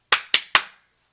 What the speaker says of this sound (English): Sorry for the clippity clap